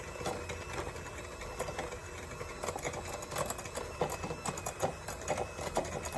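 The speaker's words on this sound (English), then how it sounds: "I'm going to give it a good whisk here" Hand whisking of banana bread batter in a bowl, a rapid continuous rhythmic tapping and scraping close by, soft and steady throughout.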